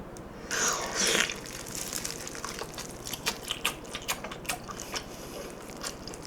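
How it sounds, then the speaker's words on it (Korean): Jokbal, Korean braised pork trotters, is bitten into up close, with a loud initial bite followed by a run of softer, wet, rhythmic chewing sounds. "자 이렇게 한입 맛보도록 하겠습니다"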